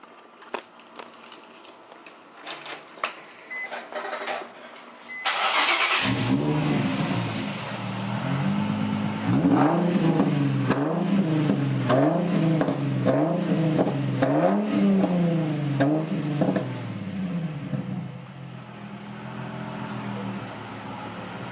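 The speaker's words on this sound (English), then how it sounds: "it's pretty loud for a muffler delete. I like the sound of it" A Nissan 350Z engine with a muffler delete idles loudly and then revs repeatedly in rising and falling bursts, raspy and close, with no talking.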